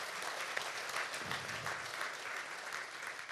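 An audience in a hall at a national residents' self-governance convention gives a round of applause, a steady wash of many hands clapping, fairly distant and even throughout.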